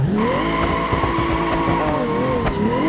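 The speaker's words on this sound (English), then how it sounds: "It is quite easy to learn to actually drift, although I would say maybe it has a bit too much grip." A car drifts in BeamNG.Drive, its engine droning loudly and steadily as the tires squeal continuously under a shifting pitch, close and dominant throughout.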